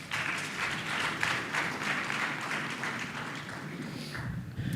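Audience applause at a youth public health pre-conference, a steady wash of many hands clapping in a hall that holds evenly for several seconds, with no talk over it.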